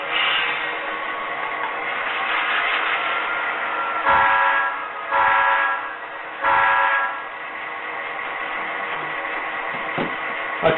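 Athearn model train locomotive with a sound decoder running, a steady band-limited diesel drone with three sharp horn blasts around the middle and a short one near the end, alone with no talk.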